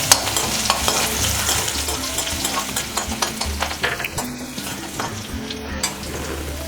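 Steady sizzle of garlic cloves frying in hot oil over low heat, with occasional stirring scrapes and soft clinks, close up and continuous throughout.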